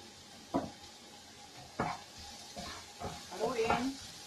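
Garlic sizzling in a pan while cooking tortang sardinas, with a quiet steady frying hiss broken by a few sharp stirring scrapes and clatters.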